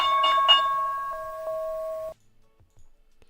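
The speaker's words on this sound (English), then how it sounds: "I think you heard a bell as well." A bright electronic bell-like chime rings out loud for about two seconds in two tones and then cuts off abruptly into near silence, with no talking.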